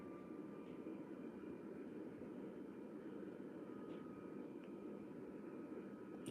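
An airliner's engines roar at full takeoff power in Microsoft Flight Simulator 2024, a steady, fairly faint broadband rumble with a thin whine, continuous with no talking.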